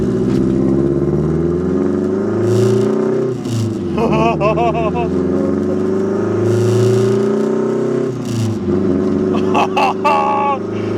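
Modified turbocharged Mazda Miata engine with a new head gasket, clutch and flywheel, droning loud and steady from inside the car with a Subaru-like burble, rising and easing through shifts, while a person talks over it.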